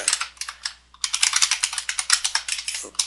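Rapid keystrokes clatter on a computer keyboard as code is typed, with a short pause after the first burst and then a longer, even run of close, crisp key taps.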